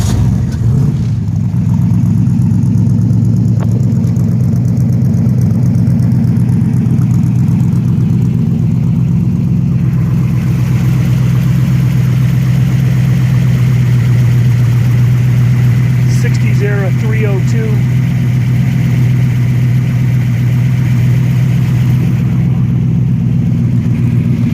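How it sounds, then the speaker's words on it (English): A 1964 ERA Shelby Cobra FIA replica engine idles after a cold start, a loud steady low rumble with lifters churning, while someone talks over it. "We're going to do a quick cold start."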